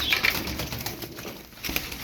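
A Turkish roller pigeon of the sinekli mavi type beats its wings in flight, a steady soft flutter over background noise, with no voices.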